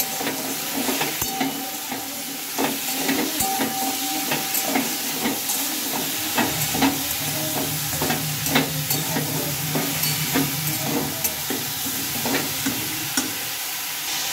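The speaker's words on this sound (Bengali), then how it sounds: "লবণ হলুদটা ভালোভাবে আমি এই সবজিগুলোর সঙ্গে মিশিয়ে দেবো।" Vegetables being stirred with salt and turmeric in a pan, a steady sizzle with scraping strokes of a spoon throughout, close and moderately loud, no voices.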